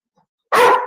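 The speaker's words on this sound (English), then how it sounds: "my dog." A dog lets out one sharp, loud bark close by after a brief silence.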